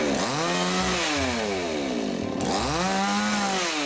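A sharp shredding machine saw cuts through a slime toy, its motor whining and sweeping up and down in pitch continuously and loudly, with no talking.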